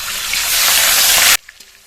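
Grated onion with cinnamon and fennel seeds hits hot oil left from frying rohu fish, a loud, dense sizzle lasting over a second before cutting off abruptly to quiet kitchen sounds.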